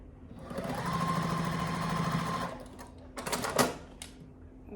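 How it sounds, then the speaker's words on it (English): A sewing machine stitches quilt fabric pieces together in a steady rapid run of about two seconds, then stops. A few louder clicks and clunks from the machine follow. "I'm going to sew these two together with the backgrounds meeting"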